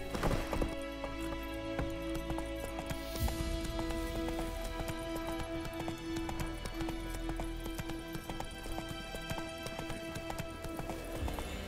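In The Witcher 3: Wild Hunt, a horse gallops with a quick, steady clip-clop of hooves that runs the whole way, paired with a sustained tonal game soundtrack.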